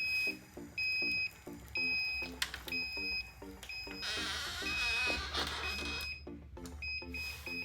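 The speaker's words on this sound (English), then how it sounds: "Once you hear those 3 beeps, you know you're all set." Solax Transformer auto-folding scooter unfolding, with a whirring motor and rhythmic mechanical clicks under repeated high electronic beeps, ending in a short series of beeps once it locks open.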